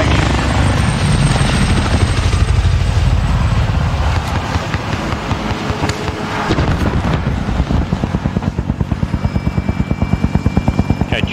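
Cash collection helicopter in the video game Warzone arriving, a loud continuous rotor roar that shifts into a steady rhythmic chop as it draws near, heard alone without talk.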